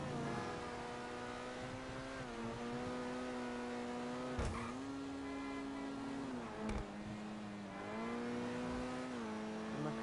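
A sports car in a Rockstar video game holds a steady, droning engine note that swells and dips as the revs change, with a couple of sharp clicks as gears shift. There is no talking.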